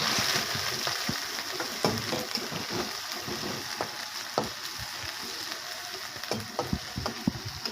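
Whole cumin, two bay leaves, chopped onion and tomato sizzle loudly in hot oil, a steady dense hiss broken by scattered crackles and pops and the occasional stirring scrape, close up with no voices.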